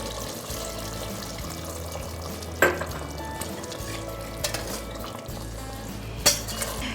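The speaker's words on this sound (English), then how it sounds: "At this point we can add some water." Mutton frying in oil for Rajasthani laal maas sizzles steadily as water is added and stirred in, with a few sharp metallic scrapes and clinks of a utensil against the pot.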